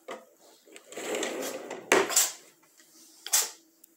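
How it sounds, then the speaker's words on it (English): Drawers slide open and shut indoors with wooden knocks and rattles during a search for Easter eggs, a few close bumps and clunks over a quiet room. "Going through your drawers."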